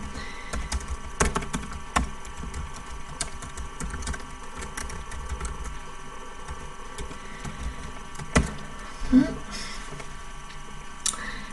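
Soft, irregular clicking of someone typing on a computer keyboard, with a couple of sharper key taps standing out near the end.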